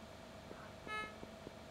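A single short car horn honk sounds on a bridge in PlayerUnknown's Battlegrounds on the Erangel map, rising briefly over steady game ambience with a few soft thuds.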